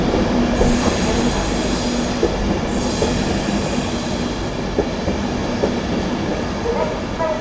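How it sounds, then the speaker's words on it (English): An LNER Intercity 225 set departing York station, a loud, close, continuous rumble of rolling stock with wheel clatter, faint squeals and a low steady drone throughout. "Departing now with your 1629 LNER Intercity 225 set"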